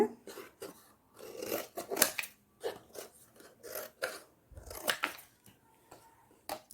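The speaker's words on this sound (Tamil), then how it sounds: "கத்திரிக்கோடு செவில்பாண்டு எல்லாம் எடுத்து வச்சுட்டேன் இப்போ நம்ம இதையை கட் பண்ணி எடுத்துக்கலாம்" Scissors cutting through a cardboard sheet in a kitchen, a run of short crisp snips and rasping cuts in quick bursts with brief pauses between, close and moderately quiet, no voices.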